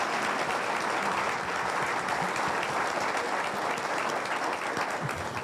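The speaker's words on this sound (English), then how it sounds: "Let's give Mark a round of applause" A breakfast audience claps for Festival Foods CEO Mark Skogen, and the applause comes as a dense, even wash of many hands, loud and continuous throughout.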